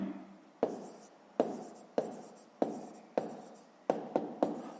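Pen writing on paper during a sixth-grade math exercise: eight sharp, close strokes in an uneven rhythm, each scratch trailing off, with no talk over them.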